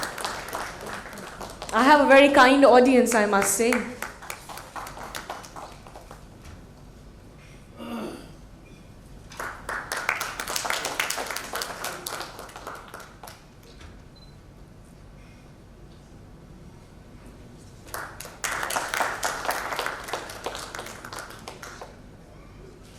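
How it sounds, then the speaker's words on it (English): Scattered audience clapping breaks out at a panel discussion during a felicitation, in short bursts separated by quiet stretches, with a speaker talking between them. "This actually calls in for a little applause,"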